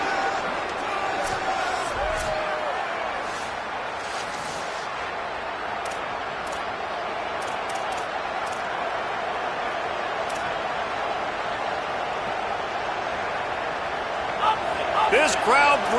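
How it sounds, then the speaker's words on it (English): A broad roar of video game stadium crowd noise at a Notre Dame versus Cincinnati college football game fills the whole stretch, steady and loud, with sharper bursts near the end. "This crowd bringing the energy and noise early."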